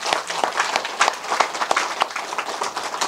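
Audience applauding at a lecture on classical Chinese culture education, a dense, steady patter of many hands clapping close by for about three seconds with no speech over it.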